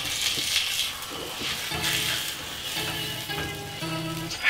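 Food frying in oil in a pan in a home kitchen, a steady broadband sizzle with crackling pops and some clattering stirring, close and fairly loud throughout.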